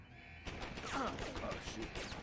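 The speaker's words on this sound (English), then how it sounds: "So I can also like even shoot out this camera if I wanted to" A gunshot in Deus Ex: Human Revolution on Wii U aimed at a security camera, a sharp burst followed by clattering, crackling debris and a ringing tail, fairly close and moderately loud.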